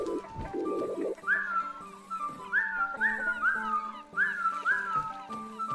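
Whistled melody by a character in the stealth game Wildfire, a run of bright rising tones repeating every second or so over steady game music and ambient background.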